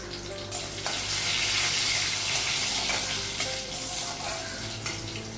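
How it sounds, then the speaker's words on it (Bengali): Panch phoron, garlic and green chilli fry in hot oil, giving a steady loud sizzle with crackling spits that rises sharply and holds throughout, with faint clinks of stirring. "তেল দিলাম পাঁচফোড়ন রসুন"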